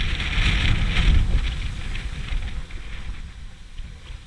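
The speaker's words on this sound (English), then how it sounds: "You can see how damned windy it was." Wind buffeting a microphone in loud low gusts while kayaking on Traralgon Creek, strongest early on and easing slightly, with faint hissing above.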